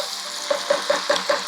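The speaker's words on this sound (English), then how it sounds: "You want to really cook it out till it's lost all its water and you can hear it really splattering" Onions frying in a pan, with a steady hiss and a run of regular crackling splatters about every fifth of a second, close up with no talking.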